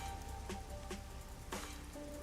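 Soft, steady rain falls in the video game Master Detective Archives: Rain Code, a quiet continuous patter with occasional gentle chimes and tones over it and no talking.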